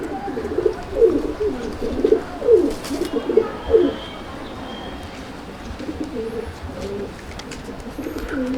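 Pigeons coo in a home pigeon loft, several birds calling in a loud rolling chorus close by for the first few seconds before settling into softer, scattered cooing.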